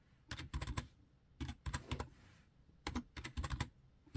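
Bursts of rapid typing on a computer keyboard come in three separate clusters of crisp, close key clicks, with short pauses between runs and no voices.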